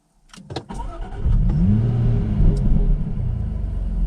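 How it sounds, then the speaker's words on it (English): A Jaguar F-type P380 engine cranks and fires with a short throttle blip, then settles into a deep, loud, steady idle rumble close by, with no talking. "Then you get a nice little blip from the throttle as well."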